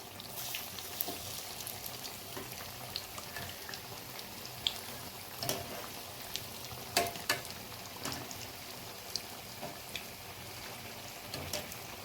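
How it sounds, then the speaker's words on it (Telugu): Potato bajji crisp in hot oil over a medium flame, giving a steady, quiet sizzle dotted with small pops and crackles and no voices. "మీడియం మంట పైన పెట్టి క్రిస్పీగా బాగా వేయించుకోవాలి ఆలు"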